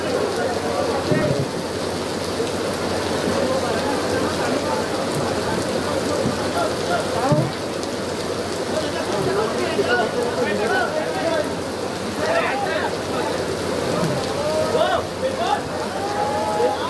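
Steady heavy evening rain pours down in Indore, India, in a constant hiss, with a few faint voices or movements underneath.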